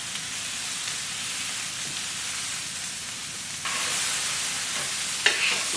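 Vegetables and carrots fry in a pan with a steady broadband sizzle, stirred now and then, close and moderately loud, growing brighter partway through, with a brief clatter near the end.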